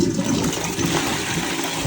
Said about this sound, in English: Let's go give it a flush first.